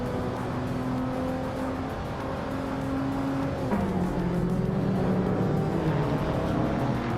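A 2010 Audi TT RS with a turbocharged engine races in a video game, its engine droning steadily and shifting pitch as it revs, with other cars' engines blending in behind.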